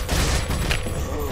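Gunfire in the video game Resident Evil 4, a dense rattling volley of shots sustained through the whole moment, fairly loud with a low booming base.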